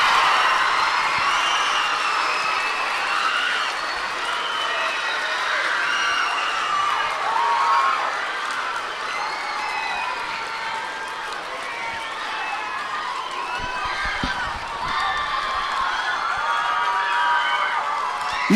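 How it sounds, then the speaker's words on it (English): A middle school audience stands to applaud and cheer for the Teacher of the Year, a dense, steady wash of clapping and shouting voices that carries on for the whole stretch. "Give them a round of applause."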